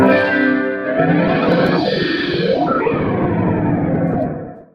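A guitar chord played through a Boss GX-10 with analog pedals, combining two modulation effects, rings out heavily processed, swirling and warbling with sweeping, phased modulation and distortion, sustaining for several seconds before fading.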